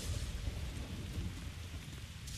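Thunder rumbles with steady rain pouring throughout a stormy scene in the video game Tales of Berseria, the dense downpour and low rolling thunder continuous and fairly loud with no talk.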